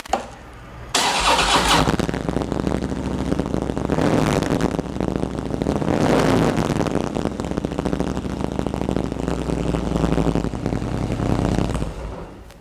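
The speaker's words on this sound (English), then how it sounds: "So I'm going to go ahead and start my bike up so you can hear it." A motorcycle engine cranks with a high whir, then catches and revs unevenly before settling into a loud, rumbling idle.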